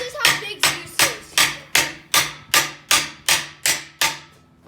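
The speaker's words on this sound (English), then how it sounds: "so now what we're going to do is pound that wedge down" A hammer pounds a steel wedge for homemade Chevy Suburban rock sliders, eleven sharp, evenly spaced metallic blows ringing close and loud with no talking.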